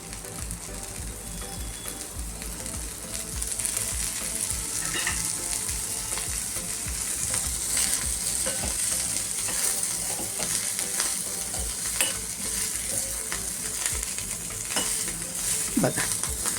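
Food fries loudly in hot oil while being stirred, a dense continuous sizzle close by with scraping and crackling throughout, and no talking.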